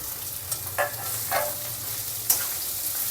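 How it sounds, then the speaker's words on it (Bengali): Boiled, lightly mashed potatoes fry in a hot wok with a steady close sizzle, broken by a few soft scraping stirs and one sharp clink near the end. "সেই আলুটা এখন কড়াইয়ে দিয়ে দিলাম"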